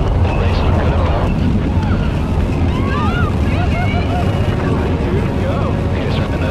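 A spaceship's rocket motor fires after release from its carrier on an X-Prize flight with Virgin Galactic, making a loud, steady, wind-like roar that fills the whole stretch, with faint radio-like voices and whistling tones riding above it.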